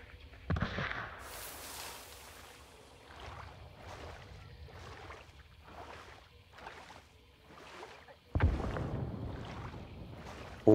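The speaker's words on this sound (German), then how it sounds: "Oh, die Explosion war ziemlich nah hier vorne." Nearby explosion in the video game Hunt: Showdown, a loud sudden blast with a burst of debris, followed by quieter rhythmic game sounds and another loud boom near the end.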